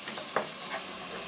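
Garlic sautéing in a pan until golden while bakso aci broth is prepared, a soft, steady sizzle with a brief stir or scrape close by.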